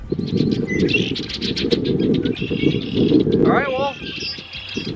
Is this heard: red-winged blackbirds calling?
yes